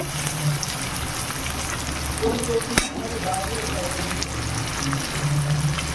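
Garlic, crushed rather than cut, sizzles in a pan with chopped onion and green chili, a steady broadband frying hiss with a soft clatter near the middle and faint low hum and murmur beneath.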